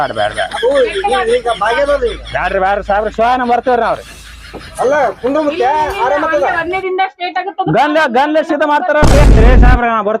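A gunshot sound effect in a North Karnataka comedy skit lands as one loud, sharp burst near the end, after stretches of animated, overlapping talk between the performers.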